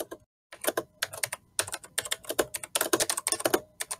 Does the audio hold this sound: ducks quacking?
no